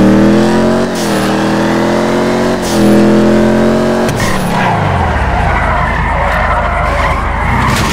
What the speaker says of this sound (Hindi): अब एक काम करते हैं, उसको भगा कर देखता हूँ गाड़ी को।